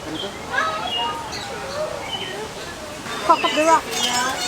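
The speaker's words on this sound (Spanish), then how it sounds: "Los pájaros que vamos a encontrar en esta parte." Birds in an aviary at the San Diego Zoo give scattered chirps and short twittering calls, clustering near the end. A person talks over them most of the time.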